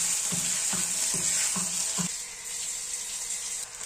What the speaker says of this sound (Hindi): अभी उसी तेल में डाल दिया जाएगा यहाँ पे चॉप किया हुआ पोटैटो यानी कि आलू